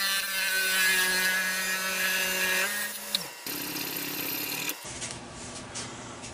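A parting tool cuts through a wooden jewelry box piece spinning on a wood lathe, giving a steady, close whining and scraping hum with harmonic tones that drops off near the end as the piece separates.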